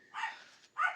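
A dog barks twice in quick succession, two short sharp woofs at moderate distance with a brief gap between them, no talking over them.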